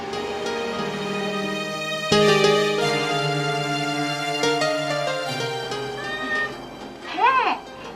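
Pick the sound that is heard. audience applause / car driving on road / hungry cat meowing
hungry cat meowing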